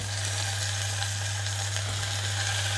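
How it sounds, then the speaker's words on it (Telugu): Raw banana pieces tipped into a pan for a gravy curry sizzle steadily, a continuous close frying crackle with a low hum underneath and no talking. "ఇందులోనే ఇప్పుడు నీళ్ళల్లో వేసుకున్న ముక్కలన్నీ కూడా ఇందులోకి వేసేస్తున్నాను"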